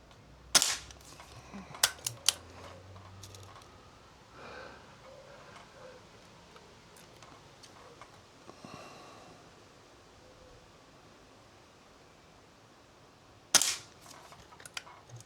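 S400 air rifle fired at a metal paddle target outdoors, sharp cracks in a few clusters near the start and another near the end, with quiet rustling and faint background noise between.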